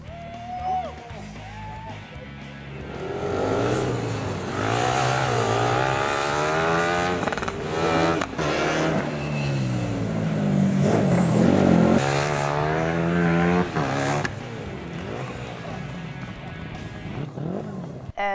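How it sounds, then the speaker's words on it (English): A student racing team's race car engine revs and accelerates at a sprint event, rising and falling pitch sweeps with gear changes, fairly close and loud, with a voice talking over it at times. "the car feels good, the engine's working well and the setup feels pretty good"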